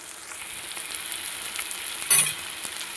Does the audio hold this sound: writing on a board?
no